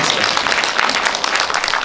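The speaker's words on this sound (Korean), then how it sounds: "박수." An audience applauds at a Korea–Japan song contest ceremony. The clapping is dense, continuous and fairly loud for about two seconds, with no speech over it.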